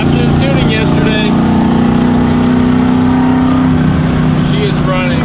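A full bolt-on Ford Mustang's engine roars on a dyno, holding a loud, steady, close-up drone for the whole stretch with only slight shifts in pitch.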